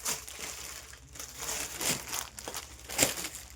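Crinkly plastic packets of printed and plain leggings being opened at a clothing market stall, giving soft scattered crackling and rustling with a sharper crunch near the end, no talk over it.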